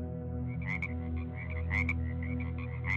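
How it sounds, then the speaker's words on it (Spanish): Many frogs croak near a lake, a steady chorus of repeated, fairly close calls that rise and fall in bursts with no talking. "comencé a escuchar ranas, muchas ranas"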